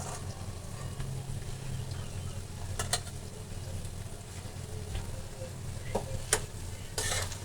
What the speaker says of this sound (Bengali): এখানে আমি প্রায় 1 কেজি পরিমাণ পেঁয়াজ ভেজে নিচ্ছি